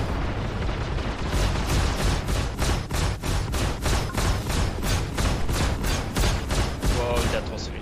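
Heavy gunfire in the space game Star Citizen, a rapid run of loud repeated booming shots in a steady rhythm lasting throughout, with a faint voice briefly underneath.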